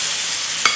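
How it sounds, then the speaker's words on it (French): Spiced meat sautéing in a pan for a West African vermicelli dish, giving a steady close sizzle and hiss throughout, with one brief louder stir or spatter near the end. "je vais venir faire sauter ma viande"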